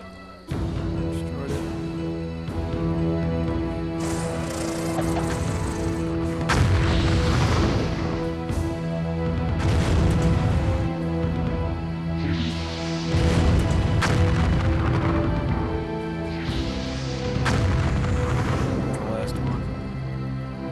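Battle sounds from the strategy game Empire Earth: repeated heavy booms of artillery and explosions come in waves over continuous game background, with occasional game voices.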